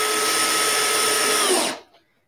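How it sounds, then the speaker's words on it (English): A power drill on a low torque setting drives screws while assembling a '57 tweed amp kit, a loud steady whine for about a second and a half before it spins down and stops. "I've got my drill set on a low torque setting so I don't overdrive these screws"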